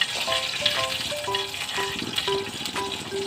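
Garlic and chili frying in a pan give a steady, bright sizzle throughout, with faint light clinks from a utensil and background tones.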